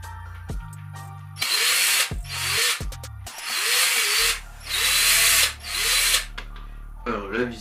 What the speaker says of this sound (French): Donc, visseuse, embout, ok, ça c'est parfait. Donc, on va visser ici.